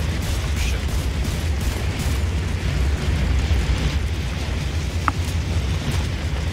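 Fire burning during a firefight in the video game The Division 2, a steady loud roar and rumble with low crackle throughout, plus a short sharp pop near the end, no voices.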